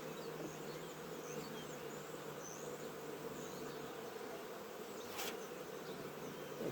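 A steady, dense hum of many honey bees buzzing close by at a hive in spring, continuous and even throughout with no voices.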